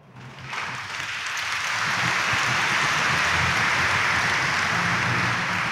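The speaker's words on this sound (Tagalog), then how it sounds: "pumalakpak nga po" A church congregation at a Quiapo Church mass breaks into applause that swells within the first second and holds as a steady, even wash of clapping, with no voices over it.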